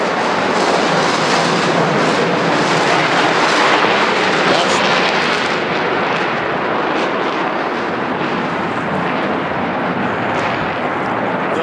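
Military jet demonstration team roaring overhead at the Thunder Over Louisville air show: a loud, continuous broadband rush that holds steady for the whole stretch, with no talk.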